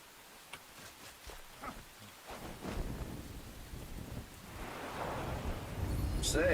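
Rain falls in the video game Enshrouded as a soft, steady hiss that grows louder and denser partway through, with occasional wind-like swells and no talk over it.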